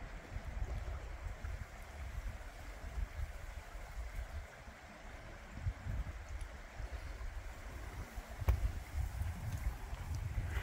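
Creek water flowing through the Grand Canyon on a hike, a soft, continuous rushing wash with light wind, quiet and steady, and no speech.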